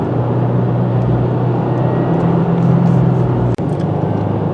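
A 2022 Subaru WRX with a turbo engine and 6-speed manual drives along a road, its engine and road noise forming a loud, steady interior drone that dips sharply for a moment near the end.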